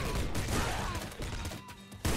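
Spiked club melee weapon in Nuclear Throne Ultra Mod firing with a dense, crunchy burst like rapid gunfire that fills the moment and then cuts out, with a sharp new hit near the end.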